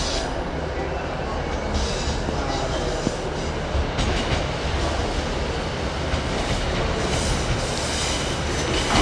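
Steady rumble and rattle from inside a small two-car train on the move, with continuous wheel and track noise, faint clicks and occasional voices in the background.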